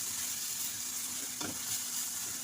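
Marinated chicken tossed with spices and gravy ingredients in a pan, a steady soft sizzle with light scraping strokes of a spoon, one clearer stir near the middle, no voices.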